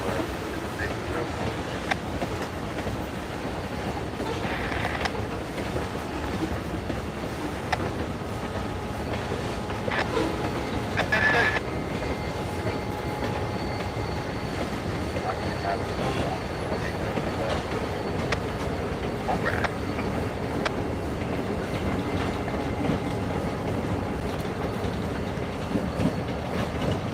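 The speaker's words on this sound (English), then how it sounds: "As you can see, there is no one in that locomotive. He's being operated from afar." A CSX or Norfolk Southern train run by remote control passes in the open, a long, steady rumble of rolling wagons with faint wheel clatter and brief squeals, heard from some distance.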